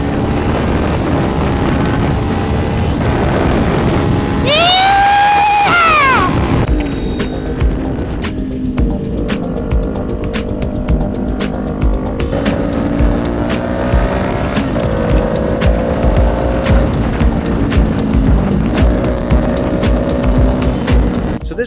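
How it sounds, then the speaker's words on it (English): A motorcycle engine revs and accelerates at highway speed, its pitch climbing through the gears in repeated rising sweeps under steady loud wind and road roar. "We're gonna try to get it up to speed, try to rev it all the way throughout the range."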